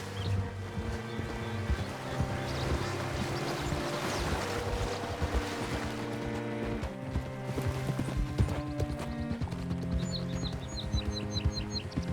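Horse hooves clip-clopping at a steady walking rhythm in Red Dead Redemption 2, with a lighter layer of game ambience underneath, moderately close and without talk.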